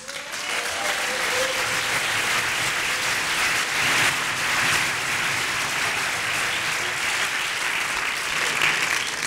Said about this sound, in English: massive applause for everybody who was out yesterday in the streets